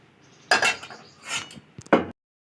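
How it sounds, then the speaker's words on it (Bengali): A cleaned kadai is set back on the stove with a couple of close metallic clanks and some lighter clinks in between, and no voices. "আবারও আমি কড়াই পরিষ্কার করে বসিয়ে দেব।"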